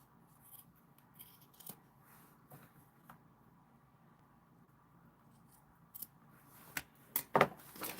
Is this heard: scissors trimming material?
yes